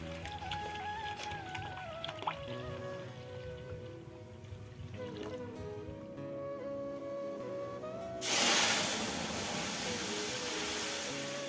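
Masoor dal boils in a wok: a steady, loud hissing and bubbling starts abruptly partway through and holds, following a quieter stretch of kitchen background hum.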